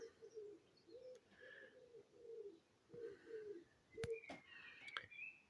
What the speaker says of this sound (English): And then we have a wood pigeon as well.